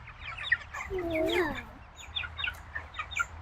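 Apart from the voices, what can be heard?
chickens clucking in a backyard chicken tractor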